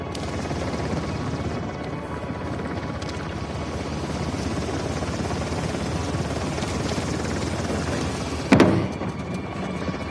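A helicopter in the video game Uncharted: The Lost Legacy makes a constant, loud rotor drone that fills the whole stretch, with a sharp bang or impact near the end.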